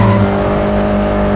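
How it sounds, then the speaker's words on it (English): An MGB and a Fiat 124 roadster accelerate hard off a drag race start, engines roaring loud and close with rising pitch over a short burst. "are you ready for a little bit of a drag race?"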